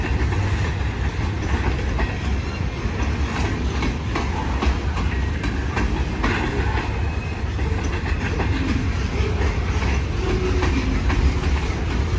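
Salem switcher locomotive hauling loaded tank cars from Ventura Oils at La Biche, a steady close rolling rumble with faint clickety-clack of wheels on rail joints, continuous and loud without talk.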